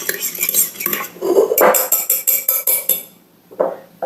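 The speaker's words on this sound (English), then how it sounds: "We'll give this a mix." A metal utensil clinks and scrapes rapidly around a bowl, mixing ingredients for cheese dreams, in loud, close strokes that stop briefly near the end and start again, with no talking.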